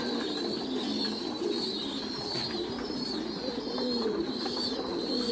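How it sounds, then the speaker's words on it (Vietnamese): Pigeons coo steadily in soft, repeated throaty calls, with faint chirps and a constant background hum throughout. "Còn đây là cặp chim bồ câu"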